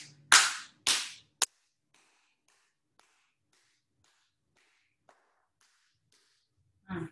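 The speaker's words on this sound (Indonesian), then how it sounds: "Tepuk telapaknya." Two loud, sharp palm claps close together, followed by a quick third snap, then near silence with a faint rustle at the end.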